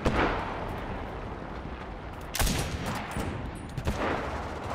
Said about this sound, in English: He built a machine gun or something.